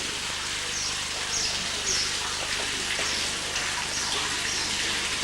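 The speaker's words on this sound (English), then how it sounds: "Found a natural spring of water." An ancient natural spring sends a steady, soft flow of trickling water, heard close up as a continuous light splashing with faint outdoor ambience.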